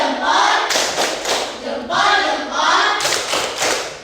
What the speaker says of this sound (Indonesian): Oke, tepuk dua jempol.